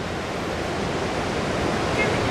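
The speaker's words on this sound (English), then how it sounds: "Water is gushing down." Athabasca Falls in the Rocky Mountains gushes with a continuous, broad roar of heavy falling water, heard steadily and fairly loud, like distant thunder, with no distinct talk over it.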